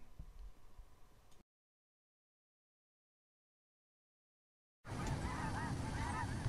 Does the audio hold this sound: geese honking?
yes